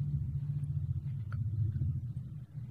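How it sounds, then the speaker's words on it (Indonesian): A car rolls into a yard, its engine a steady low rumble that stays close and fairly loud throughout, with no voices. "Aku juga mendengar suara mobil masuk ke dalam halaman."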